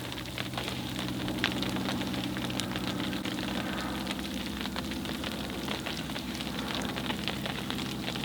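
Hailstorm at a pond while pike fishing, a dense, steady patter of hailstones striking surfaces with scattered sharper ticks over a constant low rumble.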